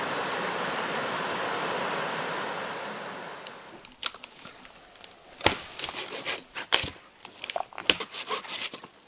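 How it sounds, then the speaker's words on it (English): A small waterfall beside a lake rushes in a steady, full hiss for about four seconds, then drops away, leaving scattered close knocks and clicks. "found a beautiful little waterfall"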